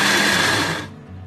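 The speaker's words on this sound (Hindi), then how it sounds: "अपना जूसर ब्लेंडर और यहाँ मैंने सारा मसाला डाल दिया है। अब इसको मैं पीसूंगी।" A juicer blender grinding whole masala spices for achar gosht masala, a loud, high whirring motor that runs briefly, then winds down and cuts off.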